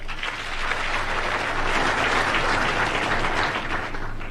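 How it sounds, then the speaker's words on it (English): A large audience applauds graduating champions at a Women's Day celebration in Rwanda, steady, full clapping that swells and holds throughout, with no speech over it. "Let us applaud them all"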